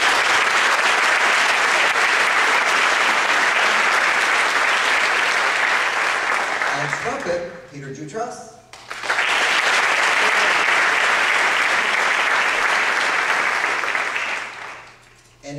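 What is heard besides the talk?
audience applause for graduating jazz band students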